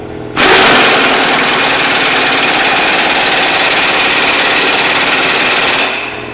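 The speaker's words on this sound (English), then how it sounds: "take your air gun or whatever means you're using, and you can tighten this in all the way" A pneumatic air gun tightens the front axle nut on a 2008 Dodge Caravan minivan, a loud, steady, continuous mechanical buzz that starts abruptly and runs for about five seconds before cutting off.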